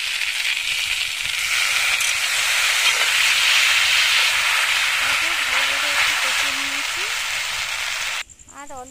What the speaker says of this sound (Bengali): দিয়ে মশলাটা ভালো করে একটু কষিয়ে নেবো